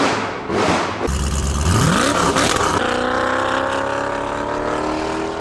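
A 2004 Koenigsegg CCR supercar engine fires up and roars, pitch rising sharply through a hard rev, then settles into a strong, steady high idle drone.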